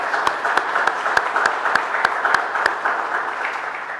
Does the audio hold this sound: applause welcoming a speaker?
yes